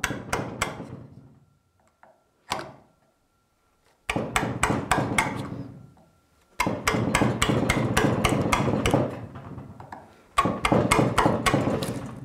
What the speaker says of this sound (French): les copeaux vont être de plus en plus fins, donc je peux frapper avec la paume de ma main